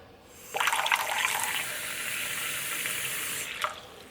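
Chlorinated tap water pours steadily, a continuous close splashing stream that starts abruptly, runs for about three seconds and ends with a brief final splash.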